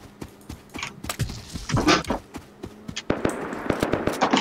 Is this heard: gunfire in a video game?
yes